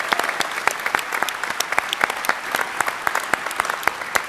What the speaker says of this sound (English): So let's have a little round of applause for Mike Salvatore, everybody.